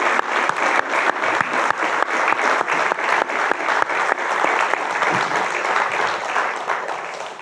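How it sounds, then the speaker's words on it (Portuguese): Audience claps together at a poetry reading event, loud and close, with a strong rhythmic pulse of synchronized hand claps that continues steadily before tapering at the end. "Uma salva de palmas."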